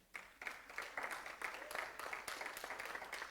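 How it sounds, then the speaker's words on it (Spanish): A church congregation claps during a sermon, the applause swelling in after a quiet start and continuing as a fairly faint, steady patter of many hands. "¿Podemos darle un aplauso al Señor?"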